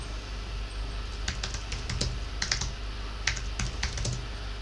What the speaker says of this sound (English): So hopefully the typing isn't too loud.